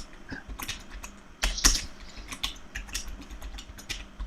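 Typing on a computer keyboard in an office, with quick irregular key clicks and a few louder taps, close and clear with no talk over it.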